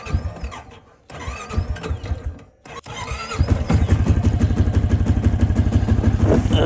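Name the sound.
motorcycle engine taking throttle in gear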